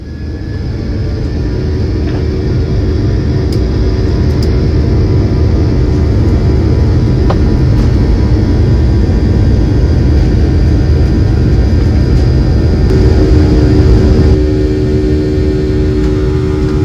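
Passenger airplane taking off on a flight to the Philippines, a loud steady roar of jet engines and rushing air building and holding throughout, heard from inside the cabin with no talk.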